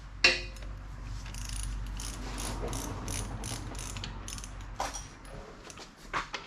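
Ratchet wrench clicking as bolts are tightened while installing shocks and Wilwood disc brakes on a B-body car, a steady run of close mechanical clicks with a few louder knocks, no talk.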